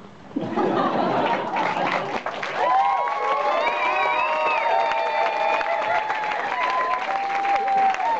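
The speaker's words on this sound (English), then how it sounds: "keep the applause going" A crowd applauding and cheering loudly, with whistles and shouts rising over the clapping, sustained throughout.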